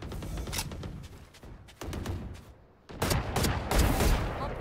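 Bursts of gunfire in the first-person shooter Valorant come in quick rapid volleys separated by brief gaps, loud and close, with the heaviest shooting near the end.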